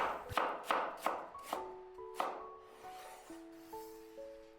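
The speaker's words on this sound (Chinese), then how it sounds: "然後再切成厚薄均匀的片" Tomatoes sliced into even pieces on a cutting board, a series of about five crisp, sharp knife chops in an uneven rhythm, close and clear, followed by quieter cuts and a brief ringing tone.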